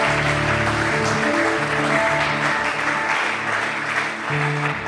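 Congregation at a church service applauding and cheering for Jesus, a loud, sustained wash of clapping with music holding tones underneath throughout.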